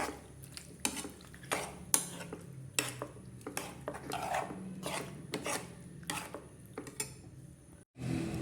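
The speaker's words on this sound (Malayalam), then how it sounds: "ഈ തണുത്ത പാസ്ത ഇതിനകത്തോട്ടിടാം. എന്നിട്ട് നന്നായിട്ടൊന്ന് ഇളക്കിയെടുക്കാം." Cold pasta is stirred around a pan with a utensil, producing a regular series of scraping, rasping strokes about once a second, close and quiet, ending in a brief pause.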